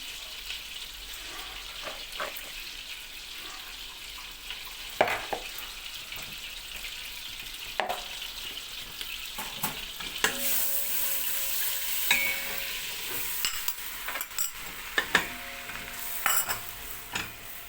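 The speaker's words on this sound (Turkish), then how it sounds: "Bunun kokusu çıkana kadar kavuralım." Mushrooms sautéing in a pan for a carrot mushroom soup, a continuous soft sizzle with intermittent scraping and stirring clatter, fairly quiet and close, with no voices.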